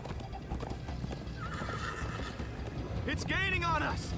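Horse in Minecraft Story Mode clip-clops along at a steady gait, then lets out a clear neigh near the end, with background rumble and voices of characters talking.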